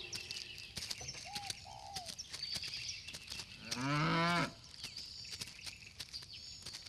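A cow lets out a single loud, drawn-out moo in the middle, with birds chirping and tweeting faintly around it in a quiet outdoor setting.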